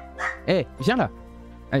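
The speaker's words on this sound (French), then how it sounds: "Alors dès qu'il entend des bruits dans le couloir, il aboie." A dog in a house barks about four times, loud and close, in short bursts with gaps between them, while a person speaks French to it in between.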